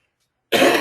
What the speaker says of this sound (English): do apologise for the tickly cough.